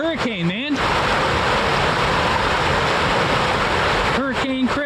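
Hurricane Creek rushes in a steady, loud broadband roar along an Ozark Highlands trail in December, continuous throughout, with a person's voice briefly audible at the start and end over the flowing water.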